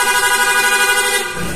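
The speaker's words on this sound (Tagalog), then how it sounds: "Tapos meron siyang PIA horn." A loud, sustained vehicle horn blares steadily for over a second, its rich harmonic tone holding nearly constant before a low rumble creeps in at the end.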